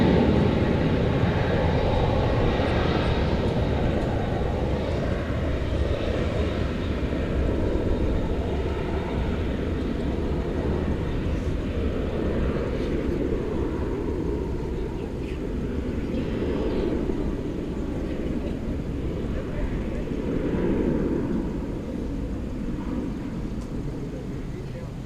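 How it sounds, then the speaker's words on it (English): An Alaska Airlines jet bound for Seattle takes off from DFW Airport, a loud sustained engine roar that slowly fades, heard with a voice talking over it. "There goes the Alaska flight to Seattle."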